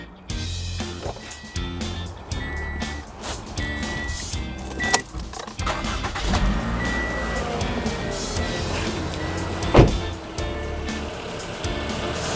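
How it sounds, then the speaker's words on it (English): A car's engine cranks and starts during a battery and alternator check, with a burst of mechanical whirring that settles into a steady running rumble, plus occasional clicks and knocks nearby. "Okay, now I'm gonna start the car."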